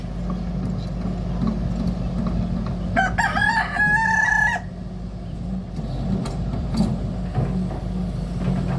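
A rooster crows once, loud and close, over a low background hum and scattered faint rustling.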